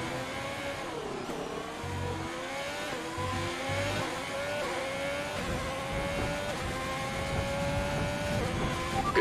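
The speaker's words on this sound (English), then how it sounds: "My car's making a lot of noise now." A racing car engine screaming around a track, loud and sustained with rising and falling revs as it accelerates through gears, bouncing over the track surface, no talk over it.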